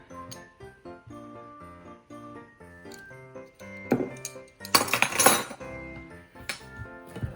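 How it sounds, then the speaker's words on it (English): A spoon clinks against a bowl while Biscoff cookie butter fudge mixture is stirred, with a brief cluster of glassy scraping and clinking strokes over steady background music. "we're just gonna keep stirring that until it's nice and creamy"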